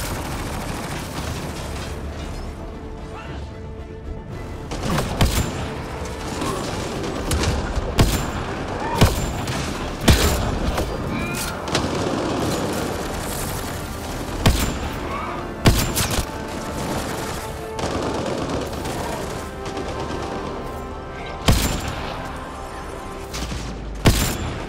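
Bursts of gunfire from the Mass Effect Andromeda video game, with sharp shots and short volleys ringing out at irregular intervals over a steady background of combat noise.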